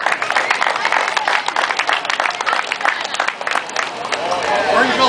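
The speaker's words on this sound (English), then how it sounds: "can we have a round of applause for Pete's Deli?" Crowd applause at an outdoor community police torch run event, steady clapping mixed with crowd chatter and cheers lasting throughout, fairly loud and close.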